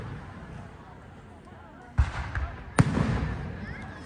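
Firecrackers go off at a village fair in Italy: two sharp, loud bangs about a second apart rise over a low crowd murmur, with faint crackling trailing after each.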